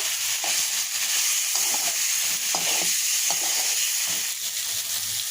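Potatoes being stir-fried in a pan, with a steady sizzle under repeated scraping and stirring strokes of a utensil, close and continuous.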